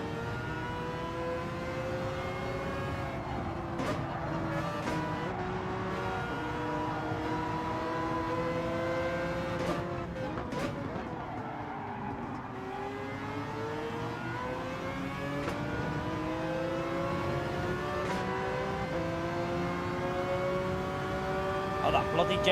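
A Genesis race car accelerates in Gran Turismo 7, its engine whine rising and falling through gear changes, steady and fairly loud, with someone talking over it.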